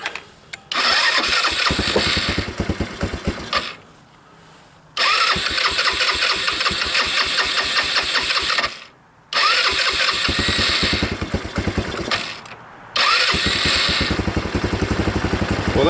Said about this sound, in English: So we've gone from a flat battery to a running engine.